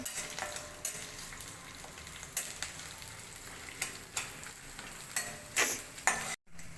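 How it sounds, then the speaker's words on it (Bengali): Chopped onions sizzle in hot oil in a pan, a steady frying hiss broken by scraping stirs and light clicks of a spoon against the metal. "এটাকে ভাজা ভাজা করে নেব।"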